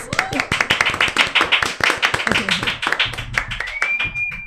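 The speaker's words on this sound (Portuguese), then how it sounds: "Recebam com muito carinho meus convidados. Uma salva de palmas!" Audience clapping to welcome guests onto a Brazilian podcast stage, a dense burst of sharp hand claps that thins out toward the end, with a voice speaking over it.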